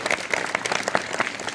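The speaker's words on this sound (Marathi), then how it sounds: "टाळ्यांचा कडकडाट होऊन जाऊ द्या." Audience applause at a Shivaji Maharaj birth anniversary celebration speech in Wadgaon, a steady burst of many hands clapping that runs throughout at moderate volume, with crowd noise mixed in.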